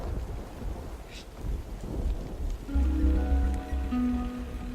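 A gathering thunderstorm in the video game Sword & Sworcery, with steady rain and wind hiss, a low rumble swelling midway, and sustained droning game tones entering under the storm.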